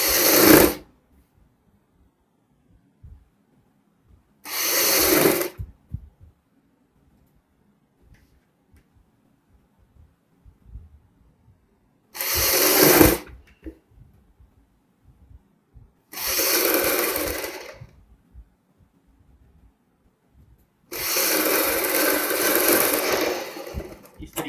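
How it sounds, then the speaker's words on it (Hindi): A sewing machine stitches a double-folded fabric strip on a child's fancy dress, running in five separate bursts of steady rapid whirring, each a second or more long, with quiet pauses between them. "डबल फोल्ड करते हुए इस प्रकार अपने एक पैर की यहाँ पे सिलाई लगानी है।"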